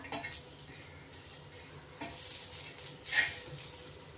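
Small pieces of dry coconut roast in a pan, giving a quiet, steady faint sizzle with a few soft clinks and scrapes as they are stirred.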